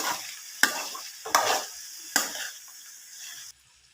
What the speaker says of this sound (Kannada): ಟೂ ಟೇಬಲ್ ಸ್ಪೂನ್ ಕಾಯಿ ತುರಿ ಹಾಕ್ಕೊಳ್ಳಿ, ಚೆನ್ನಾಗಿ ಮಿಕ್ಸ್ ಮಾಡ್ಕೊಳ್ಳಿ.